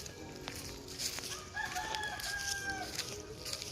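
A Rhode Island chicken clucking and crowing nearby, several short calls and a drawn-out crow over soft outdoor background noise.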